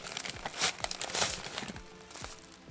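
A plastic packet crinkles and rustles as small military-themed minifigures are pulled out of it, close and in repeated irregular bursts of crackling, with no talking.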